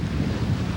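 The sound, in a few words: wind and waves while sailing across Lake Huron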